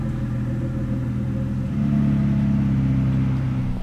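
A car engine runs at a steady, loud close-up idle, a deep even rumble that swells slightly partway through, with no talking.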